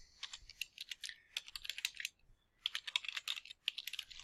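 Quick, light clatter of keys as a title is typed on a computer keyboard, two close bursts of rapid keystrokes split by a brief pause, quiet and without speech.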